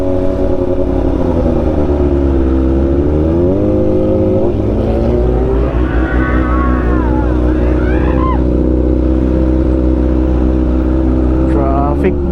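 Heavy street traffic in Dagupan City heard from a sportsbike, a loud steady engine drone with rising and falling revs and passing vehicles, a voice faintly talking under it.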